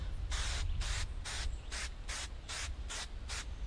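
Eight rapid, evenly spaced bursts of aerosol tick repellent hissing close by onto clothing, each about a third of a second, with short pauses between.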